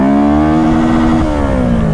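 A motorcycle in first gear revs hard to its 10,000 rpm rev limiter, giving a loud, sustained, close engine wail with steady, rising tone that dips slightly as it tops out.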